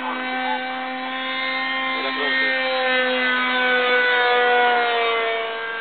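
Engine of an RC model SE5A WWI biplane in flight, a steady tonal buzzing drone with shifting pitch, rising slightly in loudness and then easing, with a brief voice partway through.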